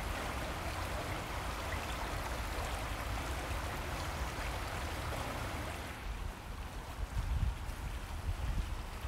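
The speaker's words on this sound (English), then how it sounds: "river is flowing by the side of this trail" A river flows beside a forest trail, a steady broadband rush of moving water that holds throughout at close range and steady loudness, with a few louder splashing surges near the end.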